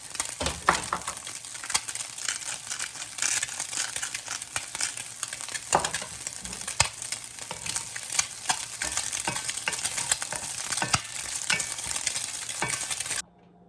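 Egg bits fry on a stove at its highest heat, a steady close sizzle broken by frequent sharp pops and crackles that runs unbroken until it cuts off near the end.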